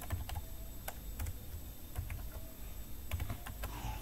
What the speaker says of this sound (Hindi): आपका प्रोडक्ट का जो भी वेट और डायमेंशन वो आप यहाँ मैनुअली में एंटर कर